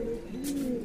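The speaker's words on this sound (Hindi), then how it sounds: "ये है दोस्तों कबूतर जी" A pigeon gives a soft, low, throaty coo, close by and clear, in one brief rounded call with a faint rustle partway through.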